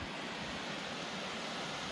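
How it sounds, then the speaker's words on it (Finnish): Kullaoja waterfall in the Naruska wilderness roars as a steady, dense rush of falling water, loud and unbroken with no voices. "vesiputous on tuolla."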